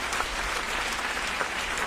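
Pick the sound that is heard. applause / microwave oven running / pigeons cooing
applause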